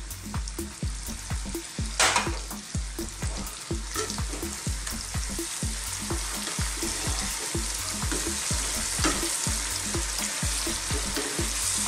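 Chicken balti with chili, cumin, coriander and turmeric powders frying over high heat in a karahi, a steady loud sizzle with regular scraping stirs throughout.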